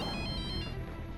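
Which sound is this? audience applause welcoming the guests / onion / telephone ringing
telephone ringing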